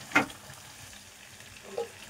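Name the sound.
pointed gourd frying in a pan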